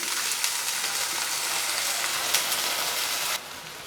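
Mutton pieces frying with onions in a pan for Chettinad mutton sukka, a dense, even sizzle heard up close that drops abruptly near the end.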